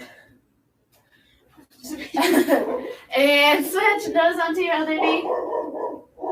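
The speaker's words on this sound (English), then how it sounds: "if you can hear my dogs barking." Dogs barking somewhere in a home, a few yips and barks mixed under a voice giving exercise instructions close by.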